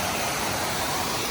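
A waterfall pours down into a hole on the side of its pool, giving a steady, close rushing roar with no voices over it.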